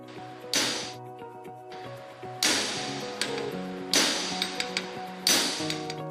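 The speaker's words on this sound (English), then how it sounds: "Using common hammer, apply hammer blows." Steel hammer blows driving a bearing onto a shaft, four sharp metallic strikes spaced about two seconds apart, each ringing on with a bright clinking tone, alone with no talk.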